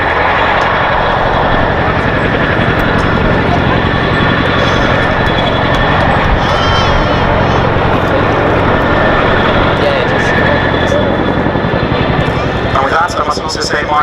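A 15-ton Boeing Chinook HC.6 twin-rotor helicopter hovers and departs at the Duxford air show, a loud, steady, broadband rotor and engine roar throughout.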